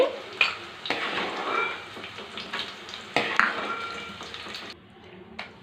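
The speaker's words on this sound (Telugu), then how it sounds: "ఎండుమిరగాయల నూనెలో కొద్దిగా జీలకర్ర వేసుకున్నాం" Cumin and dry chillies sizzling in oil with scraping stirs and a few sharp clinks of a spoon against the pan, fairly close, fading near the end.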